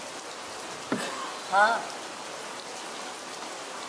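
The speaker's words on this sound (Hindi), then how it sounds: "लगता है ये बारिश जल्दी नहीं रुकने वाली।" Rain falling as a stage effect during a theatre play, a steady soft hiss running throughout beneath a brief spoken reply.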